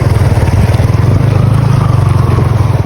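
A loud, steady motorcycle engine drone with a rapid low pulse as the bike crosses a shallow river, with faint gurgling beneath.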